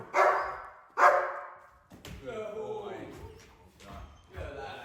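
A German Shepherd from a breeding program barks on command during training, two loud, close barks about a second apart, followed by a person talking over lighter background noise.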